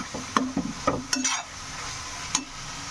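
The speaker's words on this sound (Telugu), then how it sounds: "అడుగు ఇదిగో ఇలా అంటుకోకుండా మధ్య మధ్యలో ఇది ఇలా మిక్స్ చేస్తూ ఉండండి" Amaranth leaf curry being stirred in a pan, a spoon scraping and clinking against the metal in several quick strokes over a faint sizzle, close and moderately loud with no talk.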